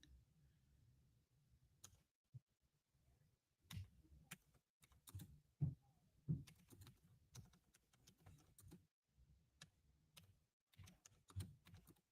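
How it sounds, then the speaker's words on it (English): Typing on a computer keyboard: quiet, irregular key clicks and taps sound up close in scattered bursts against a near-silent room, with no voices. "I am typing something."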